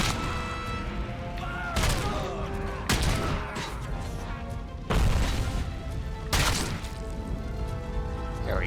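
Grenades explode during a firefight in Robocop Rogue City, a dense run of heavy booms and crashes over constant gunfire and game noise, loud and close.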